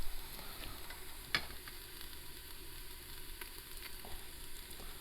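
Onions cooking in an Instant Pot on sauté mode for beef and broccoli, a quiet steady sizzle with a few soft stirring knocks, no one speaking.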